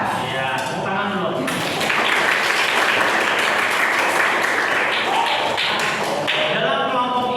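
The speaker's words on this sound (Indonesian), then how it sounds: "Ya, tepuk tangan dulu." A classroom of students clap their hands together in a loud, dense burst that lasts the whole stretch, with a few voices talking over the clapping.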